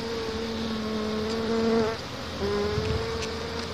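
Honey bees buzzing at a hive make a steady, dense, close drone with a continuous pitched hum that dips briefly partway through, alone without talk.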